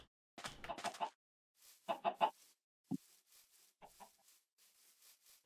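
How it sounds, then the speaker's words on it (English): Chickens clucking in an acacia village in Minecraft, several short bursts of clucks and squawks spaced by pauses, fairly quiet and close, with no talking over them. "And it has chickens."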